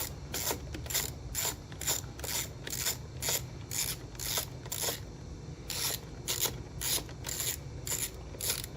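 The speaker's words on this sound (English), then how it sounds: "Now on the back side of this, there's a vibration bolt. We're going to go ahead and remove that." Close ratchet work on a vibration bolt at the back of a Powerhorse 4500i inverter generator, a steady run of rapid clicking strokes in bursts with brief pauses, alone without talk.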